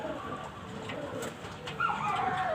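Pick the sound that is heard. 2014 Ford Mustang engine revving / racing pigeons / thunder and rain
racing pigeons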